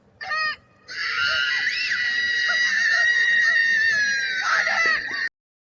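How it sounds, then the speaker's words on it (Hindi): A girl screams loudly in one long, sustained, strained wail that runs several seconds, preceded by a short sharp cry, heard alone with no talking. "तुम चिल्लाई क्यों?"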